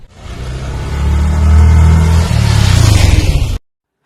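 Yamaha FZS-FI V2 motorcycle engine revving up as a ride begins, a close, loud rising growl that settles into a pulsing idle-like throb before cutting off abruptly.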